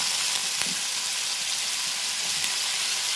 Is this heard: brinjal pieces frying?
yes